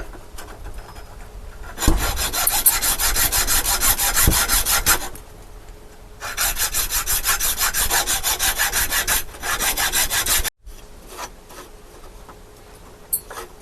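A wooden base is cut with rhythmic, rasping back-and-forth strokes up close, in several loud bursts separated by short pauses.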